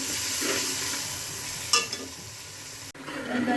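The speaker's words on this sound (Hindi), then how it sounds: "मसाला इसका भून रहा है अच्छी तरह" Masala spices with salt fry in a pan for aloo tahari, a steady broadband sizzle with intermittent scraping stir strokes, close and moderately loud, one sharper clatter near the middle and a brief dropout before the sizzle resumes.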